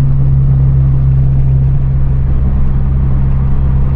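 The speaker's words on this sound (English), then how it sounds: "Yeah, my car's too, like, loud, man." A loud car engine drones steadily at idle nearby, a deep constant hum with no speech.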